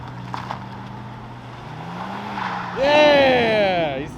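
A Hyundai Accent pulls out of a parking lot car show, its engine rising in a sharp, loud rev that sweeps upward and then falls as it speeds away, following a lower steady engine drone.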